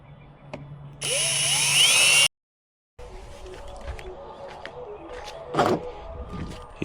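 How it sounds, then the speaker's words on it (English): A power drill whirs loudly for about a second while boring a hole in a 2018 Honda Goldwing panel for courtesy lights. Scattered clicks and handling knocks follow after a short silence. "So now we just gotta drill the hole."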